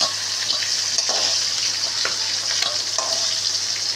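Hilsa fish head frying in hot oil gives a steady, dense sizzle with a few brief scraping stirs. It is close and fairly loud, runs unbroken throughout, and no one speaks.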